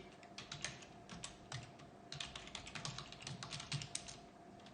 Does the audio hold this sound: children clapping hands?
no